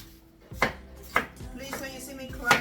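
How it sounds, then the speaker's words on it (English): Onions are chopped with a knife on a board for jollof rice: four separate firm knocks spaced about half a second apart, close and fairly quiet against a low room hum. "Let's quickly cut our onions."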